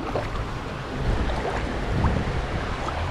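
Water rushing down a creek, a steady broadband wash with gusty surges, close and fairly loud, with no voices.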